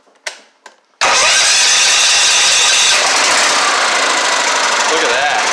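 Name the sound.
Tecumseh small engine on mud mower starting and idling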